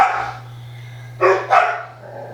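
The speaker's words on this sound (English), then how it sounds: "Sorry about the dogs in the background." Dogs bark in the background: a trailing bark fades out at the start, then two loud, quick barks follow a pause, all over a constant low hum and with nobody speaking.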